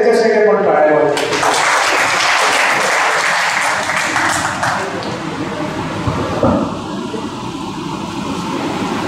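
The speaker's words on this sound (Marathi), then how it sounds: "तर पुन्हा एकदा त्याच्यासाठी आपण टाळ्या वाजवू" Audience applause at a Marathi ghazal evening, a dense, loud wash of clapping that swells and then settles into a steady roar for the whole stretch.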